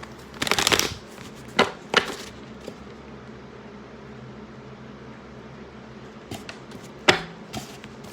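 A deck of tarot cards riffled close by in a couple of short bursts, followed by scattered light taps and clicks amid a quiet room hum.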